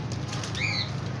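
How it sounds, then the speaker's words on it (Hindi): A pigeon at a bird market in Rawalpindi, Pakistan flaps its wings in a short, close burst of fluttering, set against a steady background hum. "और ये मेरा कबूतर है।"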